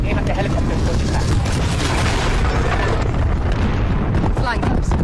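In Call of Duty: Modern Warfare, an aircraft crashes into a helicopter on an airbase tarmac, producing a loud sustained roaring explosion with rumbling debris that fills the scene, while a voice speaks over the blast.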